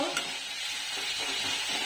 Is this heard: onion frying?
yes